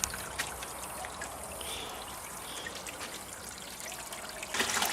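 Water trickling steadily out of the outlets of a second-tank biofilter on a homemade koi pond, a continuous soft splashing flow that swells slightly louder at the end.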